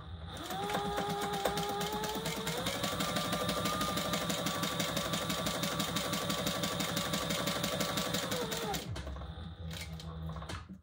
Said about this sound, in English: Now we're just going to sew around that box.